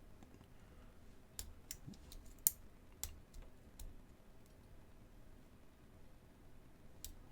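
Small, faint, sparse clicks come from pins being picked inside an old 40mm brass Yale lock, scattered irregularly over a quiet background with one sharper tick standing out.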